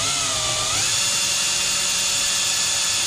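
Power drill spinning a case trimmer while trimming rifle brass for 30-30 Winchester reloading, a steady high-pitched whir that dips slightly in pitch early on, then holds constant, close and alone.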